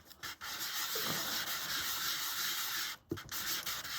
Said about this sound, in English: That's not that much sanding.